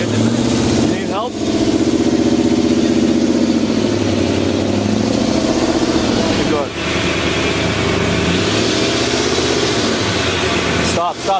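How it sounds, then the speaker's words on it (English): A V8 engine with an exhaust leak runs loudly and continuously, its rough idle and deep rumble steady throughout, with brief revs and people talking over it. "That's an exhaust leak and a half."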